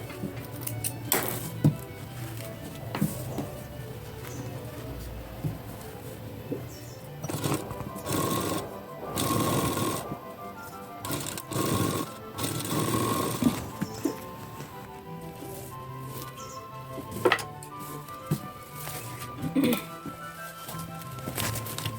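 A sewing machine runs in bursts while stitching the pieces of a blouse, its needle chattering rapidly, then pausing between runs, close and moderately loud.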